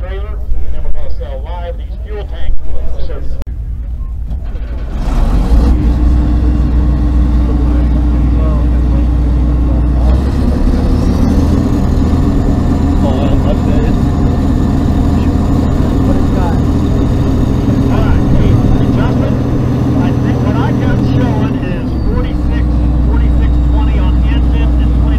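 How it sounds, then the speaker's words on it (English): A big combine harvester at a farm equipment auction starts up and runs with a loud, steady low engine drone, its pitch shifting slightly around midway and settling again near the end, with people talking over it. "Start your engine. We got this big combine."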